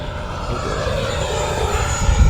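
A big, heavy RC EDF jet flies past with a steady, loud whining roar that holds throughout, and a low gusty rumble swells near the end.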